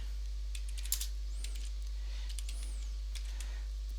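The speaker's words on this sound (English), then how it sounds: "So now I can type in there my own note to remind me." Quiet keystrokes on a computer keyboard, a handful of light clicks in short bursts with pauses between, over a steady low electrical hum.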